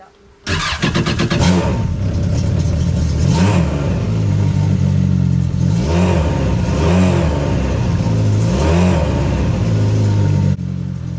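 A Yamaha GP1800R WaveRunner engine fires up and idles loudly nearby, with three rising revs spaced evenly through the run before it cuts off near the end.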